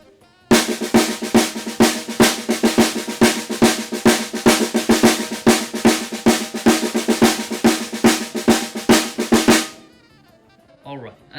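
A fast run of crisp drum strokes in right-left-left sticking as eighth notes, a steady, driving pattern, loud and close, played alone for several seconds before stopping abruptly.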